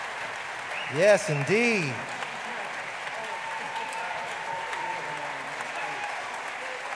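Audience applause for a symphonic jazz orchestra fills the hall as a steady, even wash of clapping that carries on under a man's brief spoken words.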